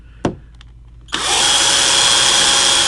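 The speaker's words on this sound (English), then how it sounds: "take my Forstner bit and make sure we're right in the spot" A Forstner bit in a power drill bores into a guitar neck for a fret marker inlay, a loud steady whine cutting in after a faint click and a short tap and running evenly to the end.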